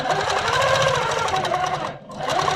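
A longarm quilting machine, the Amara ST, runs steadily with stitch regulation in cruise mode, giving a loud, close, continuous mechanical whir and rapid stitching rhythm that dips briefly near the end.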